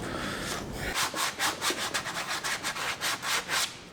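Rough grit sandpaper rubbed back and forth over the edges of plastic bedliner coating in quick, steady strokes, close up and loud with a scratchy rasp on each pass.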